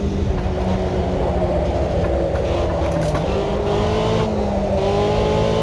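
A Chevrolet race car in a racing video game, its engine droning steadily and loud throughout with a sustained tonal whine that dips and climbs again as it drops a gear mid-corner.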